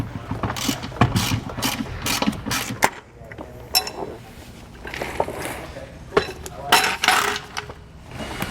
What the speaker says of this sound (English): we're going to start by removing our bolts